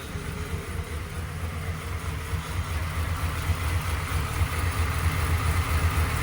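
A 1996 Impala SS with a freshly installed 385ci LT1 V8, AFR heads and roller rockers, idling steadily just after its first start, a close, continuous low rumble that holds even throughout with no talk over it.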